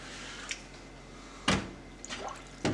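A can of surströmming fermented herring is pried open under water, giving a few sharp metallic clicks and knocks with faint watery sloshes in between, close and quiet.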